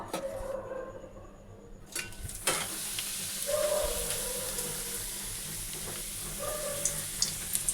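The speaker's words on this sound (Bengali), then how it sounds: "এই যে পাঁপড় ভেজে নেব" Papad frying in hot oil at home, a steady broad sizzle with bursts of bubbling and a few clinks of a pan or utensil, close and continuous with no voices.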